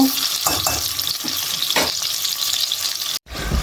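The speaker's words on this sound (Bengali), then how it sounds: "তো মশলা এখানে কষানো হয়ে গেছে" Masala paste for bele fish bhuna fries loudly and close in a pan, a dense continuous sizzle with stirring scrapes throughout, then a brief cut near the end.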